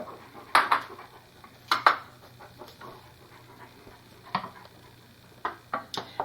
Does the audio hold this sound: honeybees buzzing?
no